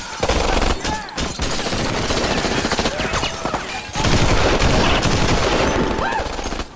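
Loud, sustained automatic fire from AK and M16 rifles, dense overlapping bursts rattling almost without pause, with a brief dip in the barrage midway before it surges again.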